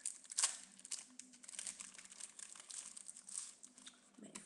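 Plastic foil wrapper of a Pokémon Black and White trading card booster pack being torn open and crinkled, a close, continuous crackling rustle with sharper crinkles near the start and quiet room tone underneath.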